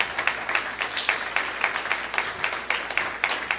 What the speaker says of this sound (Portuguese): Você pode aplaudir ao Senhor aí nessa noite